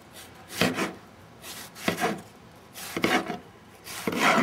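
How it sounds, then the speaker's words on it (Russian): A knife cuts eggplant into small cubes on a board in four separate strokes spaced about a second apart, each a short crisp rasp, close up with no talking. "этот самый баклажан буду резать на мелкие кубики"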